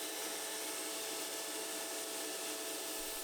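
A Benchpilot CNC machine runs in a steady, unbroken drone with a hissing, whiny tone, close and loud throughout, with no talking.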